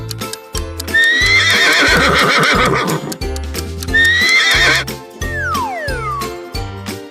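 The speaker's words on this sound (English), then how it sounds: "Horse, horse." A horse whinnies twice in long, high, shaky neighs, loud and close, while clip-clop hoofbeats and a cheerful children's quiz melody play beneath, ending with a sliding sound effect.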